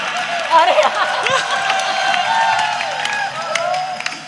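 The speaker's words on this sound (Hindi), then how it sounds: "एक बार जोरदार तालियां बजाओ इनके लिए" Audience applause at a Hindi kavi sammelan poetry gathering, a steady wash of clapping from a crowd lasting several seconds with voices and cheers mixed in.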